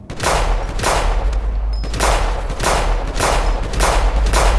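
Gunfire in the video game GTA 5 comes as loud, rapid repeated bursts of shots in a regular rhythm, filling the whole moment without any voices.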